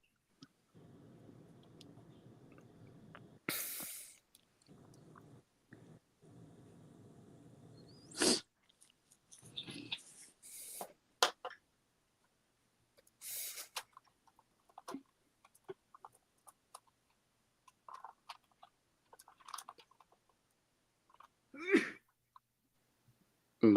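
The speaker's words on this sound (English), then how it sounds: "I had to sneeze for an extra long time there" A person gives a loud, drawn-out sneeze after a stretch of low background noise, followed by scattered short vocal sounds and quiet room noise.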